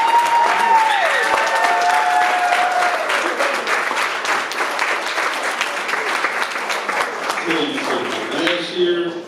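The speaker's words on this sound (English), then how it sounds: "I want a big hand clap for these guys right here." Audience at a middle school football championship banquet gives the team a long burst of loud applause, many hands clapping densely and tapering near the end, with a voice speaking over the start.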